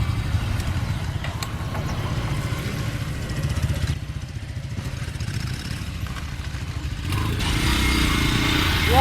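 A motorcycle being bump-started in second gear while pushed at a run sputters and chugs with a rough, uneven engine note that steadies and grows louder near the end, close by.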